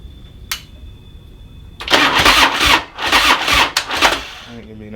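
A Harley-Davidson Street Glide with a weak battery cranks with a strained, grinding starter that turns over in several sluggish bursts without catching, loud and close, after a short click.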